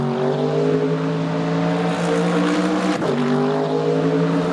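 A Mercedes AMG engine in a racing video game holds a loud, steady throaty drone with a brief gear-change dip midway, sustained and close.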